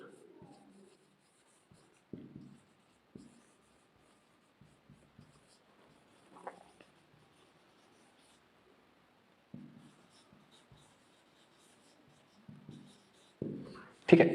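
Pen or marker writing an equation by hand during a Class 10 maths lesson on pair of linear equations, heard as faint, scattered scratchy strokes in short bursts with quiet gaps, growing a little louder near the end.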